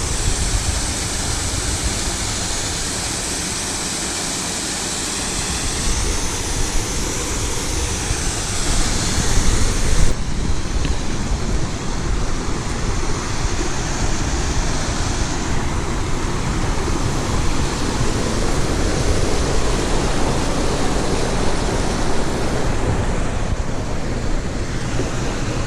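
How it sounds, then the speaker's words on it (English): The Clarion River flows past a small wooden footbridge in Cook Forest State Park, its rushing water a steady, loud wash, mixed with wind buffeting the microphone and no voices. "Because there's the Clarion River right there."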